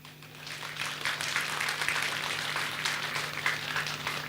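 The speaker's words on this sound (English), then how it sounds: "Clap now." A class of students claps hands together in sustained, loosely synchronized applause that swells quickly and holds steady for several seconds over a low hum in the room.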